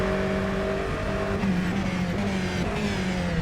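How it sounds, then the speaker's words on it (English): An Aston Martin Vantage GTE race car in rFactor 2 at Estoril holds a loud, steady engine drone with shifting pitch as it runs at speed, sounding close and continuous with no talk. "But I am liking this Aston Martin GTE more than I thought I would."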